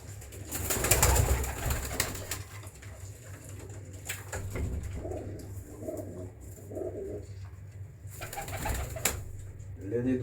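Pigeons cooing in a breeder's loft, several soft rounded coos repeating in loose bursts, with a few sharper knocks and faint background noise around them.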